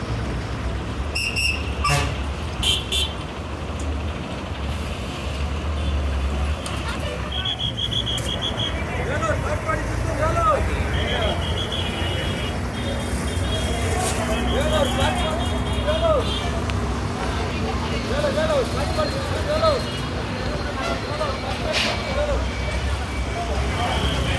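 A brand-new MG bus pulls into a crowded Trichy bus stand, its engine rumbling under steady crowd chatter and traffic noise, with horn toots and brake hisses scattered through, while people talk nearby throughout.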